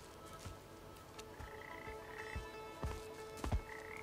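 Frogs in the Papo & Yo video game croak in several short, scattered bursts over a soft musical ambience, growing a little louder toward the end, with no voices.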